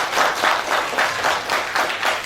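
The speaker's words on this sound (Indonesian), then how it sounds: "Tepuk tangan." Parents and guests at a school graduation ceremony for SDIT Al-Huda give a short burst of applause, a dense pulsing clatter of many hands at moderate volume, with no talk over it.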